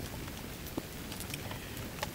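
Steady rain falls outdoors on an Algonquin Park wilderness canoe trip, a faint, even patter with scattered soft drops and no talking.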